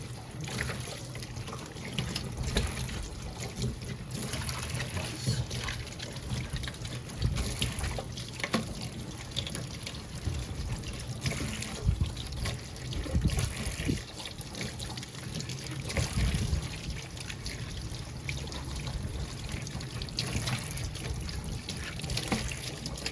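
Tap water runs steadily into a kitchen sink while dishes are washed up, a continuous splashing and trickling with faint clinks, heard close and alone.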